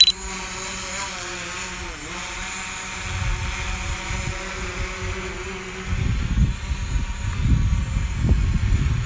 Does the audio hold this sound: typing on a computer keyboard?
no